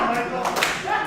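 A live crowd at a MidWest All Star Wrestling event claps in a brief, steady burst of applause, with a commentator's voice running underneath.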